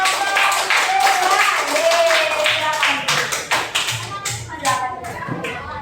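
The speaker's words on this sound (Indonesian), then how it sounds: "beri tepuk tangan untuk" A school class applauds after a group presentation, a burst of many hands clapping close by with scattered taps and children's voices mixed in, fading toward the end.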